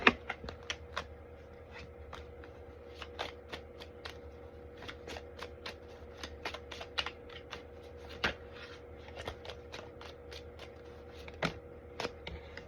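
Tarot cards are shuffled by hand, making a steady stream of crisp, close snaps and riffles with irregular louder flicks over a faint background hum.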